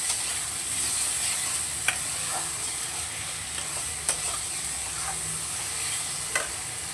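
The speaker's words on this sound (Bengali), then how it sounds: "এবার মশলাটাকে একটু ভালো করে কষিয়ে নেব" Spice paste being fried and stirred in a pan with a little sugar, a steady hissing sizzle with a few sharp spoon knocks against the pan, close and alone without voices.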